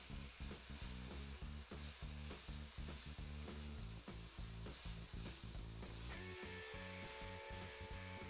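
Butternut squash, onion and pepper sizzle and crackle in a hot pan for risotto, with rhythmic stirring scrapes, close and steady.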